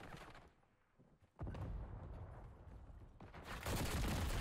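Shotgun blasts and dense gunfire in Black Ops 6 multiplayer: a quiet lull, then a sudden loud burst of overlapping shots rolling on, swelling again near the end.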